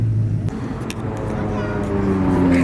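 A McLaren 570S rolls into a car meet, its engine a low, steady drone that rises slightly in pitch toward the end, heard close beneath a person talking throughout.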